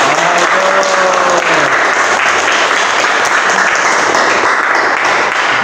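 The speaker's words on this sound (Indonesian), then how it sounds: "tepuk tangan" Loud, sustained applause from a crowd, a dense clatter of clapping that continues evenly from start to finish.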